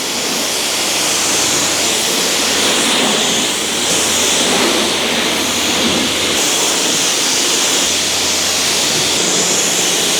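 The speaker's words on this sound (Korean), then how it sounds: "고압권으로 약품 뿌렸던 걸 다 헹궈냅니다" A pressure washer rinses chemical cleaner off a Hyundai Tucson Hybrid, producing a loud, continuous hissing spray of water that stays steady from start to finish.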